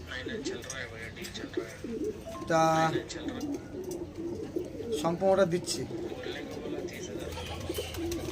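Pigeons coo softly in the background while someone talks over them, with one louder burst of cooing standing out briefly.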